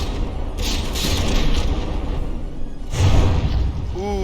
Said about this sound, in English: that turret just got smacked pretty hard